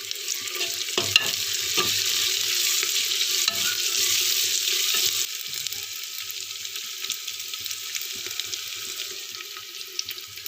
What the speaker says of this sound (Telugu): కొంచెం సాల్ట్ వేసుకుంటే టమాటా ముక్కలు తొందరగా వేగిపోతాయి.